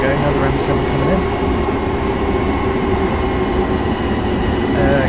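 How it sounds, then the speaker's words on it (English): An M7 train pulls in within Train Sim World 4, a steady loud rumble and hum of rolling stock filling the whole stretch, with continuous talk over it. "Okay, another M7 coming in."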